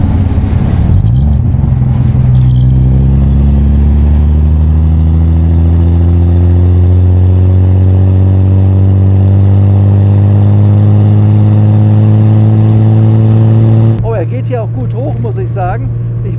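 Engine of a 1937 Maybach SW 38 Cabriolet with 140 hp, carrying three people, pulling steadily and rising in pitch as it accelerates, loud and close from inside the car, then easing off near the end.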